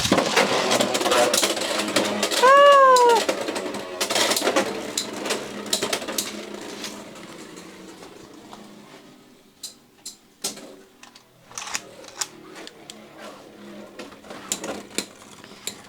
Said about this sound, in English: Do you want to rip? 3, 2, 1.